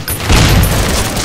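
A single loud, close gunshot boom in Counter-Strike: Source, a sharp blast followed by a brief rumbling tail, heard alone.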